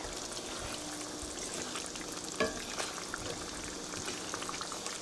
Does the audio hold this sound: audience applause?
no